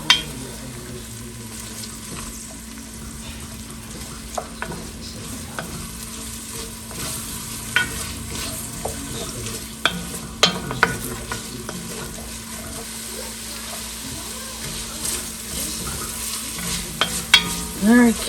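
Carrots sizzle steadily in a soup pot while being stirred, with a constant frying hiss and occasional scraping clinks of the spoon against the pot, close and fairly loud, no talking.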